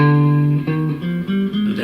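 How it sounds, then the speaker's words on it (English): An electric guitar plays a few sustained notes of a Lydian scale, moving stepwise with a bright, slightly distorted tone, alone and close. "That's what's called a Lydian scale."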